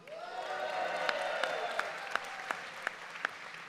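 Audience at a union rally applauding steadily, loud and sustained across the hall, with a few sharper claps or thumps standing out at regular intervals.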